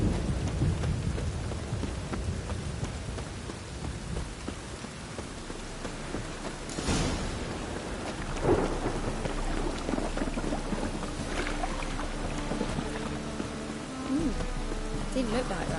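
Steady rain and a thunderstorm in the video game Witcher 3: a dense, continuous downpour with a sharp thunder crack partway through and rumbles later, with voices faintly beneath.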